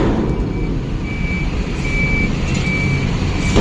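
A tipper truck reversing at a highway road construction site, its regular high reversing beeps repeating over a loud, steady diesel engine rumble close by.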